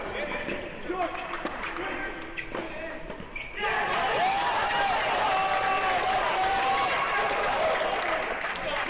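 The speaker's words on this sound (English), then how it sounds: "Rowdy crowd on hand." Rowdy crowd at a men's college tennis match between Baylor and TCU, with claps and calls at first, then a loud, sustained burst of cheering and yelling, with voices rising above the roar.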